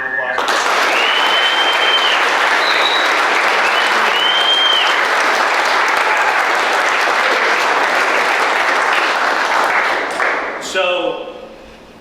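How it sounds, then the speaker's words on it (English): A workplace crowd gives loud, sustained applause to honour Tanner's five-year anniversary, with a few whoops over the clapping before it drops away and speech begins. "Give him a round of applause"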